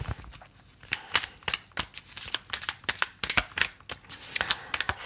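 Playing cards are shuffled and drawn for a card reading, producing close, rapid, rustling riffles and snapping flicks that continue in dense irregular bursts with no talk.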